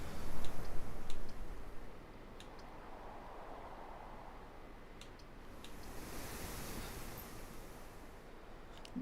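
Soft, steady ocean wave wash fills the cloister room in the video game Blue Prince, a low continuous surf hiss with a slightly louder swell at the start, joined by faint scattered ticks.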